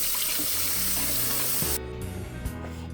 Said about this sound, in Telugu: వాటర్ పోసేసుకొని ఒక 1/2 అవర్ అయితే నానబెట్టి పక్కన పెట్టేసుకోండి.